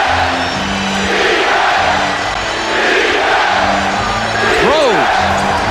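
A basketball arena crowd roars during a 1999 Knicks vs Pacers playoff game as New York mounts a comeback, a loud, sustained wash of cheering and yelling with whoops swelling near the end.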